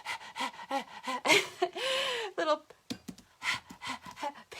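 A person's voice imitates a dog panting behind them: quick, rhythmic, breathy huffs in close succession, mixed with a little speech.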